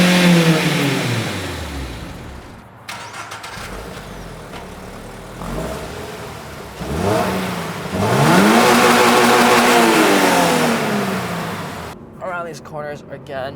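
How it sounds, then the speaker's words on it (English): A 2025 Toyota GR86's flat-four engine revs up and down while the car is driven, rising through loud, sweeping pitch climbs with gear changes, close and prominent, with a voice speaking briefly near the end. "It is a louder motor, and it is a flat 4-cylinder, and there is some pumped-in audio,"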